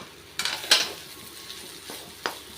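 Tamarind upma being stirred in a pan over low heat, with a few soft scrapes and clinks of the spoon against the metal over a faint sizzle, close and quiet, with no voices.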